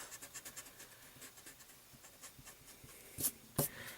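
Pencil marks being erased on paper during a beginner drawing of a head, a soft rhythmic rubbing and scratching close up, with two sharper louder strokes near the end and no talk.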